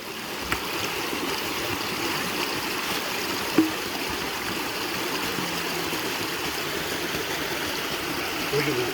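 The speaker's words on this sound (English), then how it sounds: "I'll fill my bucket up." Water runs and trickles steadily into a bucket outdoors at a gold prospecting spot, a continuous stream-like wash throughout with one brief knock partway through.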